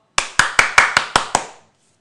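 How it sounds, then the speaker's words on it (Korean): A single person claps hands seven times in an even, brisk rhythm, each clap sharp, close and loud, with a short ring after each, then silence. "박수 한번 치고 화이팅 한번 외치겠습니다"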